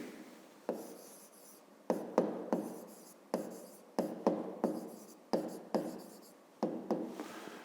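Writing on a board during a fifth-grade maths lesson: quick rhythmic scratchy strokes in short bursts with brief pauses, close and clear, with no talk over them.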